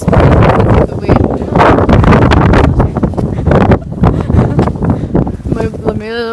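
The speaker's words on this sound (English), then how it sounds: "It's just very windy." Strong gusty wind buffets the microphone outdoors, a loud, rough, continuous rumble that rises and falls, with a brief tonal sound near the end.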